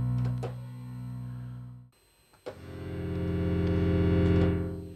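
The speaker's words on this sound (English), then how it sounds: "We'll make a bit of a pad." Sustained synth pad from a Roland MV30 Studio M, a thick droning chord with a slow release that drops to near silence, then swells back louder and brighter over several seconds.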